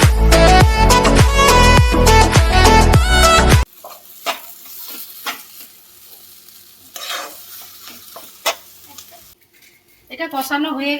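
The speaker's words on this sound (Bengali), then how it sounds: "আলু সিদ্ধগুলো দিয়েছি, দিয়ে এবার ভালো করে মিক্স করে নেব" Boiled potatoes are stirred into a sizzling potol dorma filling in a pan, with a spoon scraping and turning steadily against frying hiss after a loud burst of music at the start.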